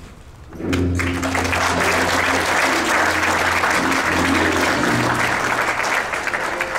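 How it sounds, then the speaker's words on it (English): Applause for an award winner for a favorite ad marketing campaign surges in suddenly and stays loud and full, a dense crowd sound with music playing underneath. "Please put your hands together as we announce the winner of the favorite ad marketing campaign"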